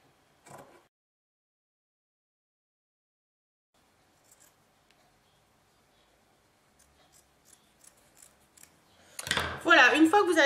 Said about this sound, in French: vous allez venir découper des petites bandes tout simplement